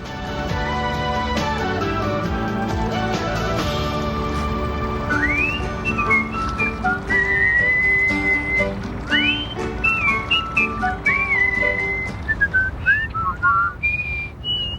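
A high, bright human whistle runs through a tune, sliding and warbling in quick rising and falling phrases over a steady musical backing.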